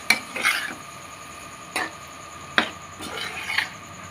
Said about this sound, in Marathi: आता याच्यामध्ये आपल्या ह्या शेंगा घालून सगळं मिक्स करून घेऊया. आणि हे मिक्स करून झाल्यानंतर चांगलं परतून घ्यायचं.